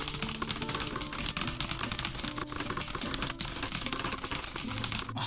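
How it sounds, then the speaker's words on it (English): Fast typing on a mechanical keyboard fitted with Speed Silver switches: a dense, continuous stream of clicky keystrokes with a steady rapid rhythm, close and fairly loud, with no voices. "so let's see how fast I can type"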